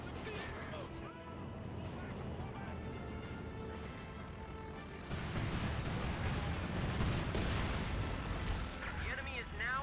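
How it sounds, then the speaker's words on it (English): Cluster munitions artillery in the strategy game Company of Heroes 2, bursts of explosions and booms thickening into a denser barrage in the second half, heard under a voice commentating. "Cluster munitions casted right there."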